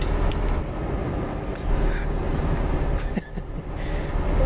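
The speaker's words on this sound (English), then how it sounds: "so we can hear more manly truck sounds." A heavy truck driven in Euro Truck Simulator, window lowered, gives a steady loud low rumble of engine and road noise, with brief clunks and slight dips in level along the way.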